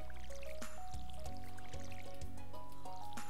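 Crops get watered with a watering can in the farming game Stardew Valley, short splashy liquid pours over a steady plucked game music loop, fairly loud and alone without talk.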